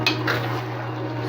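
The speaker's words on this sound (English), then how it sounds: "now we're gonna put the saltfish in there." Salted fish dropped into a pot for ackee and saltfish, a short clatter of dishes and utensils at the start that fades into a steady kitchen hum, close and fairly quiet.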